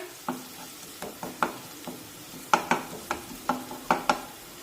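Ginger garlic paste sautéed with onion for pav bhaji hisses softly in a pan, punctuated by a regular series of sharp spatula knocks and scrapes against the metal, close up with no talk.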